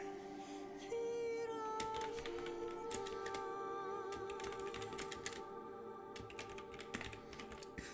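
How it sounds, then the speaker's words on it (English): Rapid computer keyboard typing runs steadily throughout, close and fairly loud, with irregular bursts of key clicks over a constant background tone from a game scene. "I'm typing them out for you."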